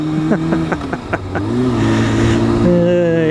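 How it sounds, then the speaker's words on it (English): A sport motorcycle with a worn chain is ridden through a clumsy downshift, its engine note loud and close, with stepped, uneven shifts in pitch and revs and a few sharp blips near the start. "I should really learn how to downshift."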